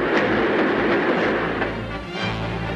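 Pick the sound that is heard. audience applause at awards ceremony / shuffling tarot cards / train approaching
train approaching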